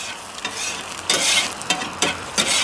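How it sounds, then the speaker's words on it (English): Small Johnsonville bratwurst links sizzle steadily on a Ballistic Griddle, with bursts of louder spattering as they are stirred and moved around, close and loud. "Get a little bit of Johnsonville on your griddle."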